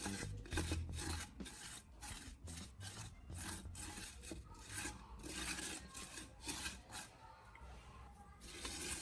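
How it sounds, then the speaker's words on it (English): A Coca-Cola and charcoal mixture is worked by sponge or fingers into the burned bottom of a pan, making faint, continuous gritty scrubbing strokes in a steady rhythm, close and quiet with no talking. "Use a sponge or your fingers and work it into the dark, stuck-on areas until everything is covered."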